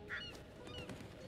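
A single short goose-like bird honk sounds near the start of a scene in The Devil in Me horror video game, set over a low, steady game ambience.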